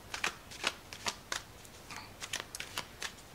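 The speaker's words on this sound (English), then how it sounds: "I'm pulling a card" Tarot cards shuffled and pulled by hand, quick crisp riffles and flicks in an irregular rhythm, close and quiet with no talking.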